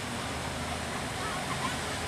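Water churned up by a speedboat surges in a continuous, loud hissing wash, with a low engine hum running underneath throughout.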